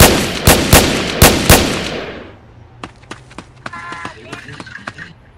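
Rapid bursts of ARP rifle fire from a video game, four loud sharp shots in quick succession, followed by fainter scattered pops and clicks of distant in-game action.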